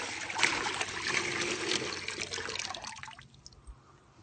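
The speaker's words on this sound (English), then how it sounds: "I want y'all to see this water as it gets poured into this bucket here." Clean well water poured from a container into a bucket, a steady close splashing trickle that tapers off and stops near the end.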